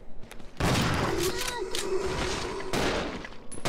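Rapid gunfire bursts from the video game Resident Evil Zero HD Remaster, loud dense volleys of shots filling most of the clip with a sharp cutoff near the end, close and intense.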